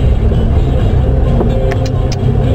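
A car driving on the road, its steady engine rumble and tyre noise loud and close throughout, with no talking.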